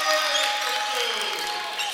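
Crowd at a boys high school basketball game in Richfield cheering and applauding, a steady broad roar of clapping and voices throughout, with a whistle-like tone gliding down in the middle.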